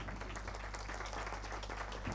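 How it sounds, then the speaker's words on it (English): An audience in Gwangju, South Korea, applauds President Yu in a short burst of clapping, moderately loud and steady, over a low background hum. "Please give a big round of applause for President Yu,"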